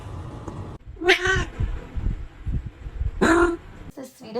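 A pet cat meows in two bursts, drawn-out and fairly close, with someone talking in between and rustling handling noise underneath.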